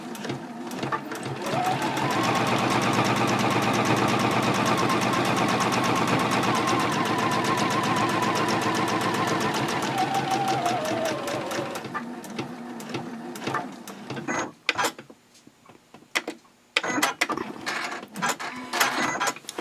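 A sewing machine quilts fabric in a fast, steady stitching run for about ten seconds, slowing at the end, then short bursts of backstitching with clicks and pauses, close and clear.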